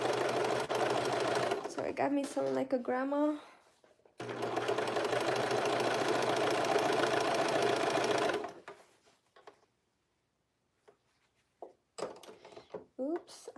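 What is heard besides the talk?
serger sewing machine running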